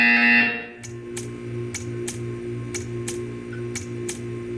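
Portal 2 art-therapy buzzer sounding as eight short, evenly spaced electronic pulses roughly twice a second, ringing clearly over a low steady hum after a brief tone fades at the start.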